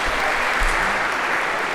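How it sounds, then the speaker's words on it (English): A crowd applauds steadily, a dense, even clatter of clapping hands filling the whole moment. "maybe a round of applause"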